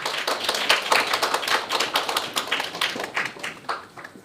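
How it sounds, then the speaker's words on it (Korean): Dense applause from a lecture audience, many hands clapping at once in a steady patter that rises and falls slightly. "큰 박수 한번 부탁드리겠습니다"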